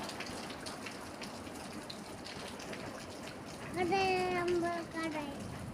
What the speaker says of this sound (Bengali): বৃষ্টির গতি আরও বাড়তেছে আগের থেকে